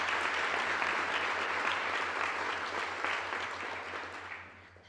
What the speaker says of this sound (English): Please give these members a round of applause.